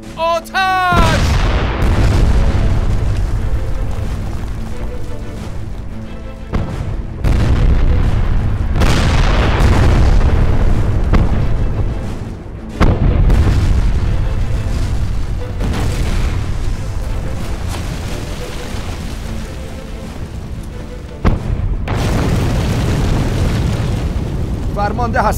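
Cannon fire and explosions in a Persian-dubbed war film about a fortress battle, with repeated heavy booms and rumbling blasts one after another, loud and close, mixed with shouting voices.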